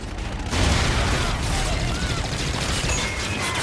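Airstrike gun run in Call of Duty Infinite Warfare multiplayer on the Frontier map, a loud continuous roar of rapid cannon fire and explosions that fills the whole stretch without pause.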